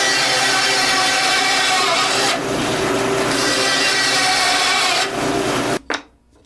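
A saw rasps steadily through the excess of a maple laminate board in a workshop, with a continuous loud, gritty cutting sound that changes pitch briefly partway through and stops abruptly near the end; nobody speaks.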